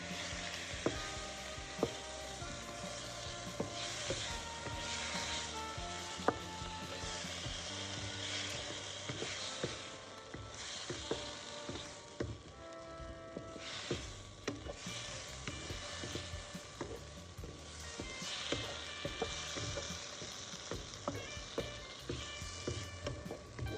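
Tomato paste sizzles loudly in a pan, a close, crackling fry that keeps going with scattered spatters and a few utensil taps, and no voices.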